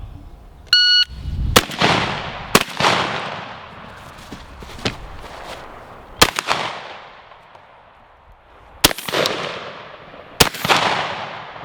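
A shotgun fires Remington 7/8 ounce rifled slugs outdoors: several loud, sharp blasts spaced a second or more apart, each trailing off, with a brief electronic beep near the start.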